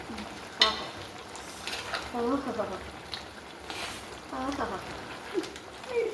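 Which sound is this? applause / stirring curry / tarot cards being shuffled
stirring curry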